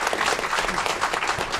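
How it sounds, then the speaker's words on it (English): A room of attendees at a city committee meeting gives a short round of applause for a World War II veteran, a steady wash of clapping that holds evenly throughout. "Let's give Dick Miller a round of applause."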